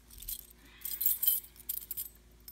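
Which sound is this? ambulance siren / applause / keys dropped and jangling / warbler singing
keys dropped and jangling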